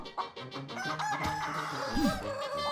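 Chicken in the video game ALTF4 giving a few loud, close clucks and a short crow-like squawk amid busy game sounds and music, with no talk.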